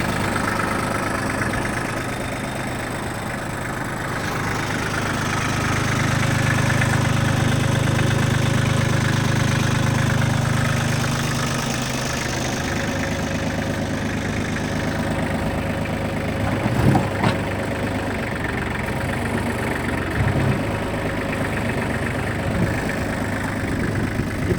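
A Shibaura D195 four-wheel-drive mini tractor's three-cylinder diesel idles close by, steady and even, with a brief rise in low rumble midway before settling back.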